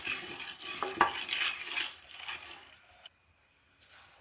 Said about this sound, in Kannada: ನೆಕ್ಸ್ಟು ಕಡಲೆ ಹಾಕ್ಕೊಂಡು ಹುರ್ಕೊಳ್ಳೋಣ.